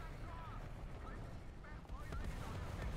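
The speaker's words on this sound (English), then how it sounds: "T-95 is enjoying some artillery fire." Artillery shells land around a tank during a War Thunder battle: dull booms and scattered impacts thud over a low, rumbling game background at moderate loudness.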